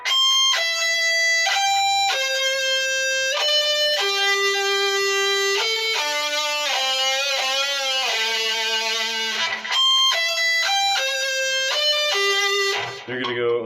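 Distorted electric guitar plays a riff, a run of loud sustained notes stepping down and back up with bends and slides, steady and unbroken with no voice over it.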